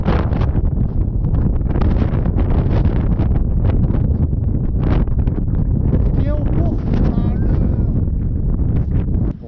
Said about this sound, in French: Je dirais qu'il y a un peu de vent.